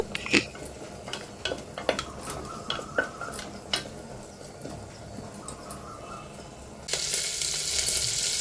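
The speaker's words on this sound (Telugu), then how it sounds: "బిర్యానీ ఆకుతో సహా అవన్నీ దీనిలో వేసేసుకొని దోరగా వేయించుకుందాం" Whole biryani spices, bay leaf and curry leaves fry in oil in a pan, with spoon scrapes and clinks against the metal over a crackling sizzle that swells into a loud, steady hiss near the end.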